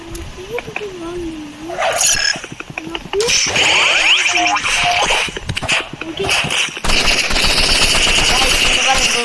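Video game gunfire rattles in rapid bursts and single shots, loud and close, mixed with in-game effects and a player's excited talk and exclamations throughout.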